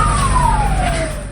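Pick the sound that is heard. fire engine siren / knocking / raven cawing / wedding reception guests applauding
fire engine siren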